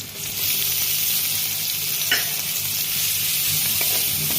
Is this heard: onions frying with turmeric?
yes